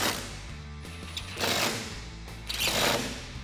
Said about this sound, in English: Grab your T50 Torx bit and tighten these down.